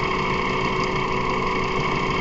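A 2006 Mazda 3 with a blown head gasket between cylinders idles with one cylinder disconnected, giving a steady, close, unbroken engine drone with a dense buzzing hum and no voices.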